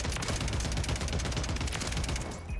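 Automatic weapon fire in Call of Duty Warzone from a gun fitted with a semi-compensated flash hider: a dense, continuous rapid burst of loud, close shots lasting the whole stretch, with no talking.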